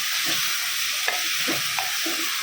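A spoon stirs dalia, broken wheat, with spices and drained lentils in a hot pan, giving a steady sizzle with soft scraping strokes at an even rhythm, close and alone.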